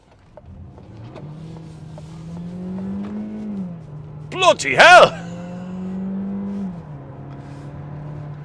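A 2022 Citroen C5 X's highest-horsepower engine revs up under hard acceleration and holds a strained, rising drone before easing off, with a brief loud shout from a person partway through.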